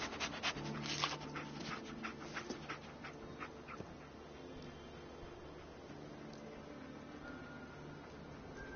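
Dogmeat, the dog companion in Fallout 4, pants steadily with quick breathy rhythm, strongest in the first few seconds then softer, over a faint steady in-game background hum.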